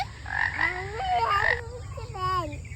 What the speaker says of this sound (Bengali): ওই দেখো ব্যাংগুলোর কি সুন্দর খেলা করছে দেখেছো